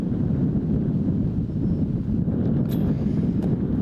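Wind roars across an outdoor disc golf course during a tournament final, a dense, constant low rumble of gusts pressing close throughout.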